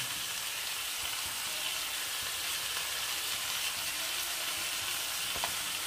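Chicken pieces frying in a pan with turmeric and salt give off a dense, even sizzle that holds steady throughout, close and moderately loud, with only a few faint stirring bumps and no voices.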